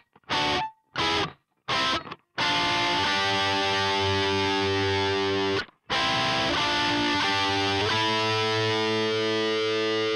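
Distorted electric guitar playing the bridge of a song, a few short choppy stabs opening into sustained, heavily overdriven chords with one brief gap, loud and alone with no voice.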